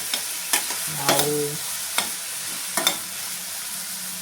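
A spoon scrapes and stirs ridge gourd gravy in a pan over a soft steady sizzle, with a few sharp knocks against the pan. A voice says one brief word near the start.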